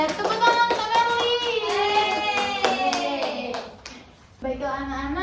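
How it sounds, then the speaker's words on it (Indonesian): Schoolchildren clap for a classmate in a brief, close burst of rhythmic claps, with a voice audible over the clapping before it stops abruptly. "Tepuk tangan untuk Arli."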